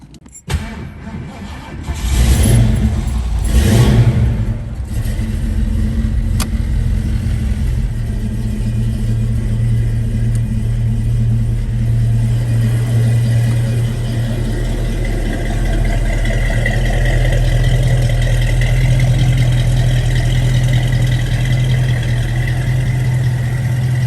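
A 1970 Ford Mustang Mach 1 engine cranks and catches with a couple of revs, then settles into a steady, rumbling idle that continues close by.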